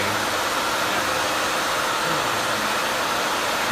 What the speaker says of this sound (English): Moving the dryer back and forth is just creating curves.